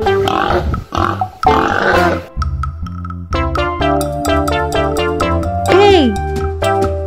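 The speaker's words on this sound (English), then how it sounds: "The sound of pig is..." A cartoonish pig grunts and oinks in a children's animal-learning piece, short snorting grunts followed by bright musical tones and a sliding squeal, loud and close.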